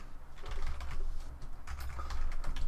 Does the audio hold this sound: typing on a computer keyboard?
yes